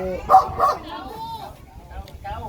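A dog gives two quick barks close by, followed by softer whimpering yips, with faint voices and background noise underneath.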